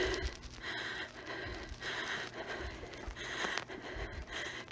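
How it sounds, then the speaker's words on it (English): A Dalmatian dog pants heavily and continuously, with raspy, gasping breaths and snorts that stay close and fairly loud across the whole stretch, with no talking over them. "Here's a heavy breathing alert."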